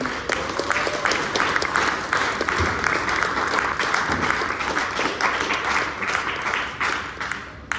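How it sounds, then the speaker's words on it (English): Loud, steady audience applause from a seated crowd at a university speaker-series panel, continuous dense clapping with no talk, lasting throughout. "Give a big round of applause for them."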